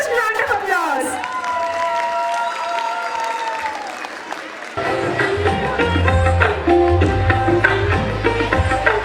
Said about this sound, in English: Please welcome Standard 10 with a huge round of applause.